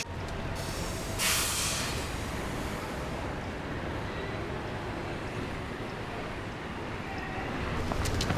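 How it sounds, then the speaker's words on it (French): A metro train carries passengers home with a steady, loud rumble and hiss throughout, a brief brighter rush early on and no break in the running noise. "Pour la toute dernière fois, Maiko va prendre le métro du retour"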